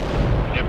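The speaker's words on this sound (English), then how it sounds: "Everyone and their grandmother is shooting at us with RPGs!" Deep, booming rocket fire and explosions from RPGs in the real-time strategy game World in Conflict, a dense rumbling blast under brief speech.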